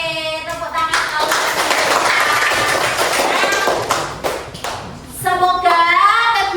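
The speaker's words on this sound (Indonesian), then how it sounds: "tepuk tangan" A group, apparently children in a classroom, claps hands in a rapid, dense patter for several seconds, close and loud, with voices heard before and after.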